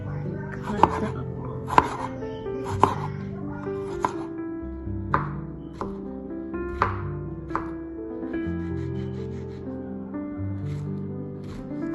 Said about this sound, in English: Cut the okra.